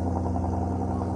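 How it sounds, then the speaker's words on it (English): Exhausts of a Porsche GT3 and a Shelby GT500 with carbon pack idle together at a car show cruise-in, a dense, steady low rumble close by with no talk. "We got dueling exhaust going on here"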